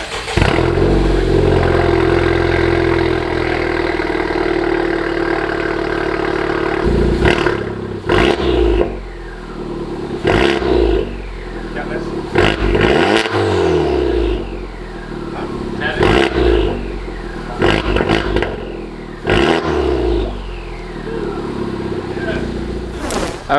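A Honda Civic Type R fitted with a PRL catted downpipe idles loudly, then revs repeatedly in sharp bursts, each rising and falling back to a deep close-up idle.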